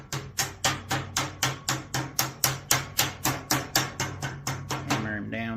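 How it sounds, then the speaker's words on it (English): Steady, rapid hammer blows on HVAC sheet metal, about a dozen sharp ringing strikes in an even rhythm, close and loud, ending with a brief metallic scrape. "Hammer him down like so."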